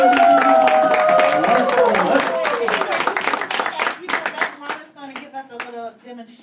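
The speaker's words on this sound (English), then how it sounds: "let's give Marla a round of applause" Talk show studio audience clapping and cheering for a guest, dense applause at first that thins into scattered claps, with voices and whoops mixed in.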